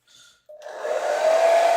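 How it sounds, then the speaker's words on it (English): A hairdryer switches on and runs up to a steady, loud whooshing roar while drying paint on a Human Torch figure during a model-painting session, close by and with no talk over it. "Hairdryer on torch."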